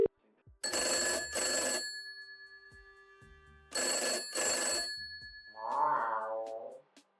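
An old-style telephone bell rings twice in bursts, each a pair of loud close trills, during a police call in a cat detective video game, followed by a brief tonal voice-like sound.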